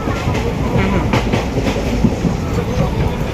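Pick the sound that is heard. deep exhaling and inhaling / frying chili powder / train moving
train moving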